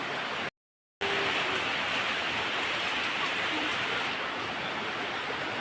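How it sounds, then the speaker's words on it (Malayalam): Heavy rain pours in Kodaikanal as a dense, steady wash of close noise, broken by a brief moment of silence near the start. "അപ്പം നല്ല മഴയുണ്ട്,"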